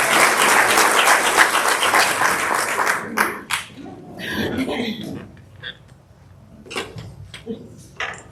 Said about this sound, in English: let's give her a nice big round of applause for Food Truck Friday